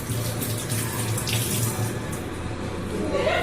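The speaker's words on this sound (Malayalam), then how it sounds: "ഇഞ്ചി അരിഞ്ഞ് അതിൻ്റെ തൊലിയെല്ലാം കഴുകി എടുക്കുകയാണ്." Running tap water pours steadily over chopped ginger being washed in a kitchen sink, a continuous close splashing rush with no talk.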